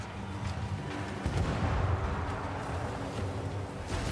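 Heavy cannon fire rumbles continuously in the video game Vermintide 2 as ships are destroyed, a dense, booming low roar that swells in the middle and holds steady without clear separate shots.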